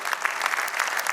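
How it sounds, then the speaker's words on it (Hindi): A short, loud burst of audience applause at a union gathering of agricultural marketing board employees, a close, dense rattle of many hands. "आपकी अपनी यूनियन के अतीत के लिए एक बार आप जोरदार तालियों से"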